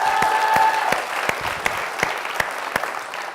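A crowd applauds the Elevate event organizers, dense even clapping with a few sharper individual claps standing out, moderately loud and continuous with no talking.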